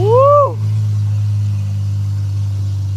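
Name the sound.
car engine humming and revving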